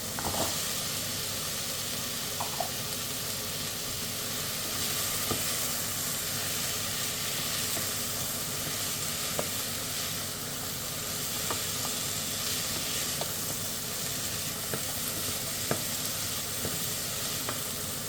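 Carrots sizzle steadily in a pot for spicy tomato lentil soup, a continuous frying hiss with small crackles and occasional stirring clinks, no voices.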